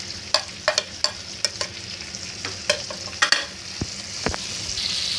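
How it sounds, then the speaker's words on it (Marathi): Dried bangda mackerel sizzles in hot oil while being stirred in a pan, steady frying hiss punctuated by repeated sharp scrapes and clacks of the spoon, close and clear. "हे चांगलं तेलात आपल्याला परतून घ्यायचं आहे व्यवस्थित."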